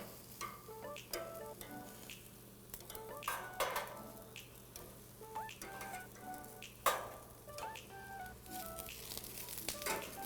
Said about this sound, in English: Starting to get some nice grill marks on the squash.